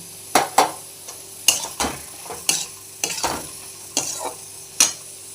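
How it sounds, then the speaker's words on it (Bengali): Red amaranth greens cook in fish oil for a Bengali chorchori, with a series of sharp spatula scrapes and knocks against the pan over a low, continuous sizzle. "এইবার আমি মাছের তেলগুলো এর মধ্যে দিয়ে দিলাম"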